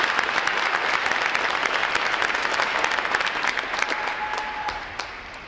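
Crowd applause at a U.S. Navy Recruit Training Command graduation, loud sustained clapping from many hands that gradually tapers off near the end, with no talking over it.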